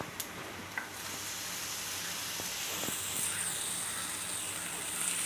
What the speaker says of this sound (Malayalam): ഇനി ഇതിലേക്ക് നമ്മൾ ചൂടുവെള്ളത്തിൽ കഴുകി വെച്ചിരിക്കുന്ന പറങ്ങണ്ടി ഇട്ട് കൊടുക്കാം